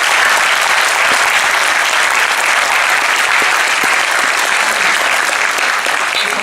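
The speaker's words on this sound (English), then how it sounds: "please join me in giving a massive round of applause to our coaches" Sustained audience applause fills a convention Q&A panel hall, a dense, steady clatter of many hands clapping at full loudness throughout with no talk over it.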